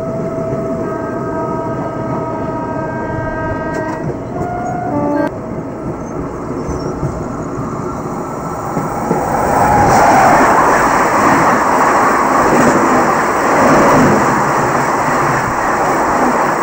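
The Sealdah Rajdhani Express passes through a station: a sustained multi-tone horn sounds first, then a loud, broad rushing roar of the train sweeping close by that fills the second half.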